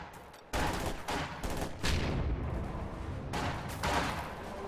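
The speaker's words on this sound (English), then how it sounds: "Sniper taking shots on the building." Sniper fire in a war strategy video game, shots hitting a building: loud, sharp gunshot blasts in quick succession, each ringing out with a rumbling tail, and no voices.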